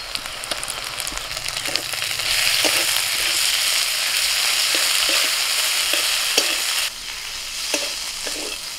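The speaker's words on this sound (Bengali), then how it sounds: "পেঁয়াজটা খুব বেশি ভাজিনি গো, আধ ভাজা করে নিয়ে আদা রসুন বাটাটা দিয়ে দিচ্ছি।" Half-fried onions with ginger-garlic paste sizzle in a little oil in a pan for mutton, a loud continuous frying hiss with scraping stirs and occasional clinks throughout, no talking.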